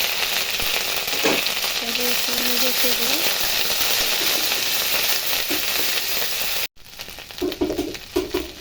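Ginger and garlic paste frying in a hot pan for an egg bhuna, loud continuous sizzle with some stirring and faint background voices, briefly cutting out before quieter sputtering resumes.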